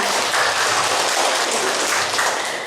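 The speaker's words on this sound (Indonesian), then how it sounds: "Boleh kasih tepuk tangan buat kita semua." Students at a vocational high school applaud together in a classroom, a dense, steady burst of clapping that fills the room and carries on without pause before easing slightly at the end.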